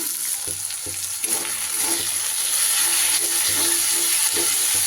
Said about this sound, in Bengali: টমেটোটাও যখন তেলের মধ্যে এইভাবে ভালো করে কষা হয়ে যাবে